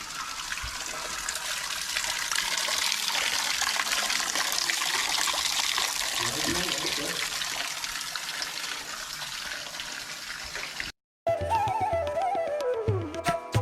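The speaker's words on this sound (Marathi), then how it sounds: "गाईच्या मुखातून सतत पाणी पडत आहे." Water streams steadily from a cow-mouth spout at the ancient Keshavraj Vishnu temple in Asud, Dapoli, Maharashtra, a constant close splashing trickle that runs for about eleven seconds before cutting to tonal, music-like sounds.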